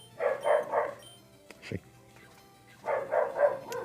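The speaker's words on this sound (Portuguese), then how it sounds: "o cachorro da vizinha tá maluco lá" A neighbour's dog barks in two bursts of three quick, loud barks separated by a pause, with a short spoken word and a brief knock in the gap.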